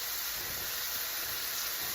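Carrots and herbs with lemon sautéing in a pan, giving a steady, even sizzle and hiss that holds throughout without pauses.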